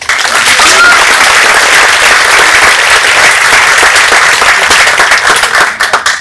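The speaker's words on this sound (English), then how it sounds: "Please, big applause." Loud, sustained audience applause at an Erasmus Mundus joint programmes graduation ceremony in Delft, dense continuous clapping filling the hall and tapering slightly at the end.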